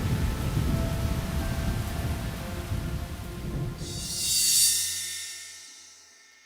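Rain and thunder over long-parched land in an animated film, a rolling thunder rumble under steady rain, then a bright burst of hiss that fades away.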